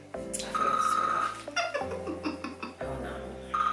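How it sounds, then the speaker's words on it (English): A telephone rings in a home with a bright, steady warbling tone that stops and restarts in bursts, fairly close and clear, with a cat meowing alongside and no speech. "The phone's ringing."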